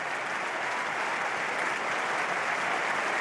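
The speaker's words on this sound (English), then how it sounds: "Chekvitadze leaves the field to sympathetic applause on a stretcher" A stadium crowd at a Championship football match between Watford and Coventry City gives sustained applause as an injured player is carried off on a stretcher, a dense, steady roar of distant clapping from thousands without break.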